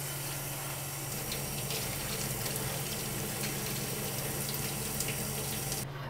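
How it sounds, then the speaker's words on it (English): Steady running water rinses sprouting legumes in a dish, a continuous close splash and flow with no talking, cutting off abruptly at the end. "I'm gonna rinse until the water is about clear"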